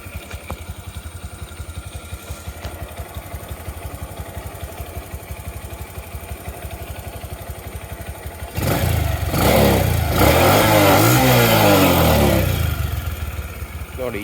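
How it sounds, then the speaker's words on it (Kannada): A 20-year-old Bajaj CT-100 motorcycle in neutral catches on a single kick, its engine rising from a steady ticking idle into a louder, fuller rev that holds and then eases, close by, with no talk over it. "ಇದು ಒಂದೇ ಕಿಕ್ಕಿ ಸ್ಟಾರ್ಟ್ ನೋಡಿ."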